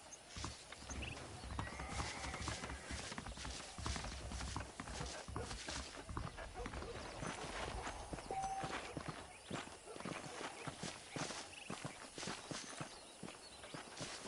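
Steady horse hooves clip-clopping at a walking pace in the video game Red Dead Redemption, over a continuous outdoor ambience, with occasional voices in the background.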